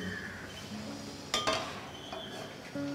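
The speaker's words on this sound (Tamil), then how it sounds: "கடாய் எடுத்துடலாமா? வச்சுடுங்க." A metal kadai (Indian wok) is set down on a stove with a sharp clanking knock and a brief rattle, fairly faint amid quiet kitchen background.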